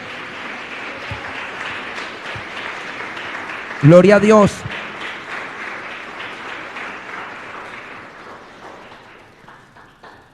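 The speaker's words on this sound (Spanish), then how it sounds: "Denle el aplauso al Todopoderoso." Church congregation applauding during a Sunday fasting service, a steady broad wash of clapping that runs throughout while a voice calls out loudly over it in Spanish.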